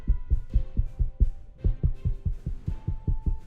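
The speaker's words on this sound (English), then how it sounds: "What you're hearing is me knocking on the foam case that is surrounding the microphone" Knuckles knock repeatedly on a foam case around a microphone, producing dull, muffled thumps in quick uneven bursts, close and fairly loud with no talking.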